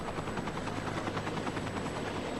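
An air ambulance helicopter drones loudly and continuously, its rotor chopping in a fast steady pulse, close and dominant throughout.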